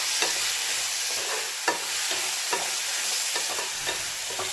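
Bitter gourd cooking in a pan with salt, a steady close sizzle of frying broken by periodic scraping stirs, with no voices over it.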